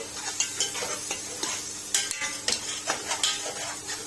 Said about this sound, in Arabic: دلوقتي نزلنا بالبصل